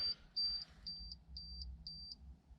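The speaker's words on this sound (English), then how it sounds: "What's beeping?" A 1993 Jeep XJ stereo gives off a regular series of short, high electronic beeps, about one every quarter second, faint and thin against low background rumble.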